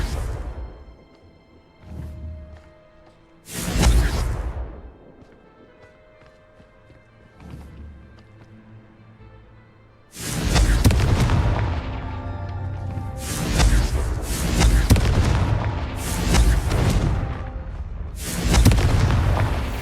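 Confringo fire spell blasts in the Hogwarts Legacy game, a few spaced booming impacts at first, then a dense run of loud explosive bursts with whooshes, close and powerful.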